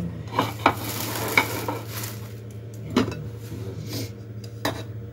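A thin lavash wrap with tomato sauce heats in a pan over a steady low hum. Soft sizzling comes with a few sharp clinks of utensils against the pan.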